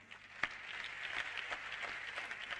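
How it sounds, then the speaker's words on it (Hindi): Modest audience applause at a motivational business talk, a steady patter of clapping from a crowd with one sharper clap near the start, moderately loud and sustained throughout without speech. "तालियां थोड़ी कम बजी हैं"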